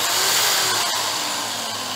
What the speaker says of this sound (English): So now we're ready to drill a 2 millimeter hole through the center of the balsa.